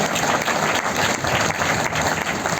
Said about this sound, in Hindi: तो आपकी जोरदार तालियां बजेगी।